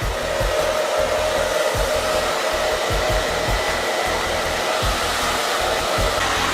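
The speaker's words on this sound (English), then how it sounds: "And just put your dryer on low." A hair dryer set on low drying curly hair makes a steady, loud, continuous whoosh with a low motor hum and faint pulsing as it moves, with no talking.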